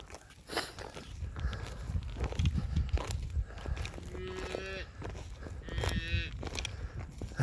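A newborn calf, its umbilical cord still attached, moos twice in a field. The two moderately loud calls are a couple of seconds apart, over faint rustling and movement.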